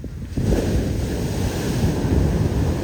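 Rough, churning sea surf breaking continuously near a fishing shore, loud and close, mixed with wind buffeting the microphone and no voices.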